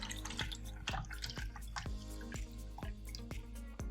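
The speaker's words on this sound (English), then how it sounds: "fill this up with water" Water is poured into a container for alkaline water testing, producing a regular series of close, distinct drips and splashes, roughly two per second, over a steady low hum.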